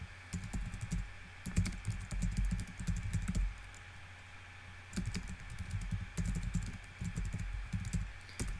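Fingers type on a computer keyboard while items are named during inbox processing, with quick bursts of clacking keystrokes separated by short pauses, close and clear with no talking.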